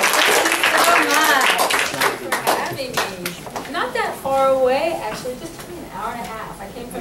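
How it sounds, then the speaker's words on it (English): Clapping and applause from a middle school audience, mixed with children's voices and chatter throughout, fairly loud and close. "let's give a big round of applause and welcome"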